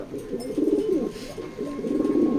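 Racing pigeons coo in a loft, two soft rolling coo phrases close at hand with no talk over them.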